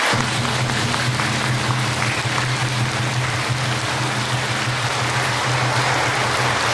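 Applause from a church audience at a Korean Holy Spirit conference in Northern California, honoring volunteers and the worship team: dense, steady clapping from a large crowd, loud and unbroken from start to finish.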